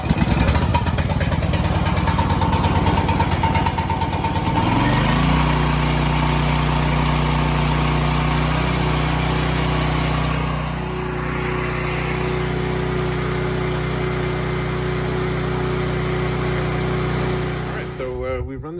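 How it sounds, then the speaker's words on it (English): A Champion 7500W portable generator runs steadily after its first startup, a loud, constant engine drone that changes pitch once early on and then holds even until cutting off near the end. "We've run this generator now about an hour."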